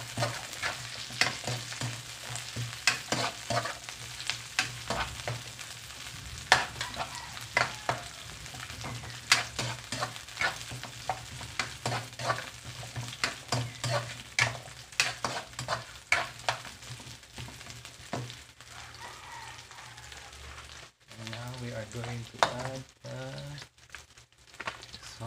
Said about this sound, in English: Now we add the ginger and garlic.